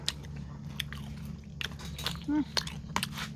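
Someone chews lunch up close with moist, crunchy bites and soft clicks over a low steady background, and a person talks briefly alongside.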